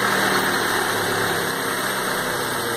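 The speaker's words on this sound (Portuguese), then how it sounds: "Mas o motorzinho tá redondo" A 2000 Honda Civic with about 110,000 km idles steadily up close, a loud, even engine hum with a constant low rumble and no talking.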